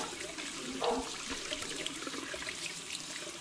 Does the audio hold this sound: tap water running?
yes